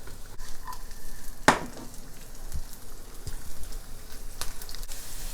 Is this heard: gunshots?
no